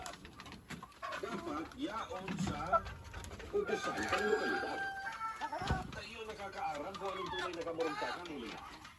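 Hens cluck and murmur nearby amid a busy coop, with other birds chirping and a person talking intermittently over them.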